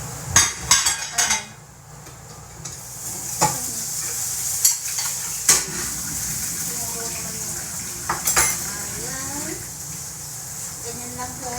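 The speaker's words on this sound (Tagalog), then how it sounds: "Gisa-gisa, yan. Tapos na, gisa na tayo. Yan. Repolyo na may carrots." Cabbage with carrots sautéing in a pan in Taiwan, a steady close sizzle punctuated by sharp utensil scrapes and clanks of stirring, with a voice talking briefly over it.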